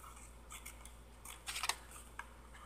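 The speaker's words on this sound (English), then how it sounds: "Now we're going to take our Pro Shears and I am just going to trim this away, this way." Pro Shears scissors trimming paper for a stamped birthday card, a few quiet snips with a sharper cluster of cuts near the middle, close up and otherwise quiet.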